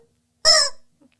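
A single loud, harsh squawk from a chicken, close to the microphone, lasting under half a second, with a faint short cluck afterwards and no talking.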